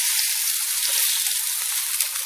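A lentil burger patty sizzles in hot oil in a pan, a dense, close, continuous frying hiss that holds steady and loud for a couple of seconds.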